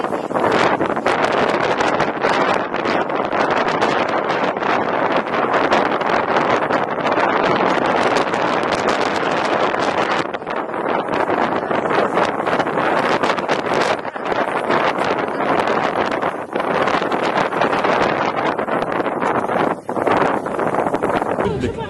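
Strong wind buffets the microphone continuously, a loud roaring rumble with gusty rustling and no letup.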